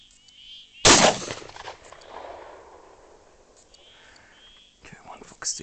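A single sharp rifle shot cracks out during a night fox hunt with a thermal scope, loud and sudden, then decays into a quiet outdoor hush broken by soft, low voices.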